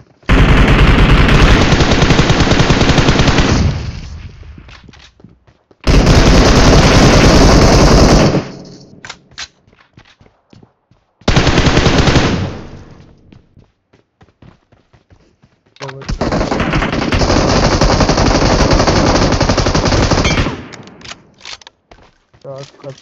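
Automatic gunfire in PUBG/BGMI on an iPad 9th generation, long sustained loud bursts of rapid shots separated by short pauses, with scattered single shots between them.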